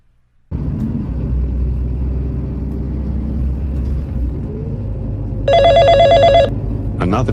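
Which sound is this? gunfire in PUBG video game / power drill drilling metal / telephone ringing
telephone ringing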